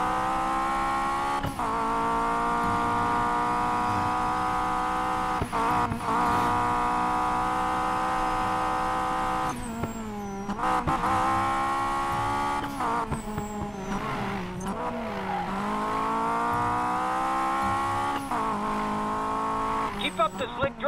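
Racing cars in Need for Speed Payback drive across the Santa Culpa Bridge, with a steady engine roar that rises and falls through gear shifts, plus brief tire squeals, loud and continuous, with in-game music or voices underneath.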